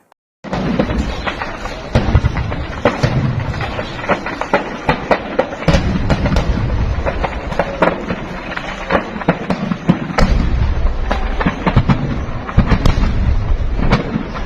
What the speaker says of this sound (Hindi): इस एमिनेशन डिपो में जो धमाका हुआ है